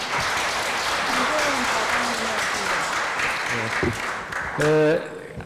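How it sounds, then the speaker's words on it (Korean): Lecture audience at a government policy forum in Seoul claps in a sustained, moderately loud round after a vice minister's talk, with a voice speaking over the applause. "다시 한번 큰 감사의 박수 부탁드리겠습니다"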